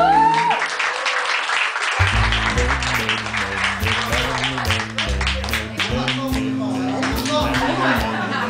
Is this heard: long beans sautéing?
no